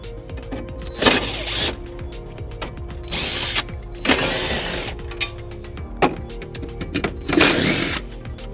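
A hand ratchet loosening the 13 mm screws that hold the battery housing on a 2012 Volvo XC90, giving repeated bursts of close, crisp clicking separated by short pauses, with no talking.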